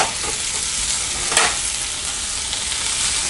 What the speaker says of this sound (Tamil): வெங்காயத்தை நல்லா வதக்கிட்டோம். இப்போ நம்ம 2 தக்காளி ஆட் பண்ணிக்கலாம்.